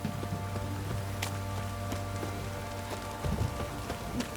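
Steady rainfall in The Witcher 3: Wild Hunt on PS5, a soft constant patter of drops with a low hum underneath, no voices.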